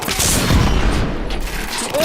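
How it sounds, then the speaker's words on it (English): Heavy artillery fire in The Order: 1886, a continuous rumbling barrage of booms and blasts, loud and dense, with faint voices mixed into the din. "We are witnessing heavy artillery fire at the moment."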